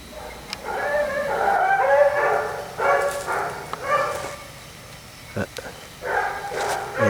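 A pack of grand basset bleu hounds bays while hunting hare outdoors, with repeated mid-distance howling cries in several bursts separated by short pauses and scattered knocks.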